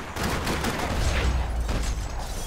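Gunfire in the video game Max Payne 3, a dense, continuous clatter of shots and booms that fills the whole stretch with steady, loud noise.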